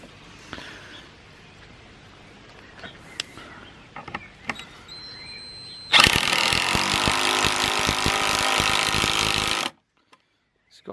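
A ToolPro 18V brushed impact driver on a 4 amp-hour battery drives a 100mm lag screw, a quiet lead-in giving way to about four seconds of loud, dense rattling hammering that stops abruptly.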